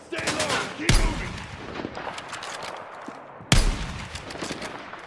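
Gunfire in a shooter video game, heavy blasts and sustained rattling bursts with a sharp loud shot near the start and another later, dense and close, with voices mixed in.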